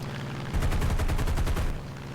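Rapid machine gun bursts from a P-47D or P-51D fighter strafing anti-aircraft gun positions in the flight game War Thunder, one sustained loud volley of closely spaced shots lasting just over a second over steady engine drone.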